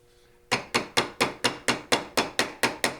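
A hammer strikes a bent metal tab held in a vise while a vent cap is fabricated for a Coleman 319 Air-O-lite lantern: about eleven sharp, ringing taps at an even, brisk pace, close and loud after a short quiet start.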